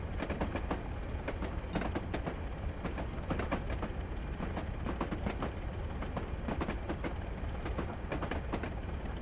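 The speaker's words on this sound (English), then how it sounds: "See, I do like that clickety-clack." A train rolls along the West Highland Line in Train Simulator Classic, its wheels beating out a steady, close clickety-clack of rail-joint clicks over a constant low rumble.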